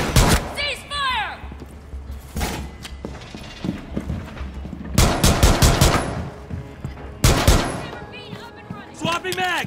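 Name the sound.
gunfire in video game Rainbow Six Siege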